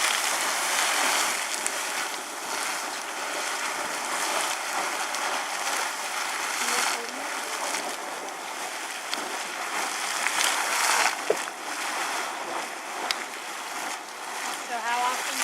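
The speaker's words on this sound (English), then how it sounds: "So this is just And this is a moderate-sized geyser." Sawmill Geyser erupting in Yellowstone, a steady broad rush of churning, splashing water spinning in its crater, heard up close with people talking over it.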